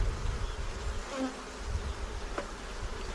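Honeybees buzz around an open backyard hive, a soft, dense humming swarm with individual bees briefly droning past close to the microphone, fairly faint and with no voices.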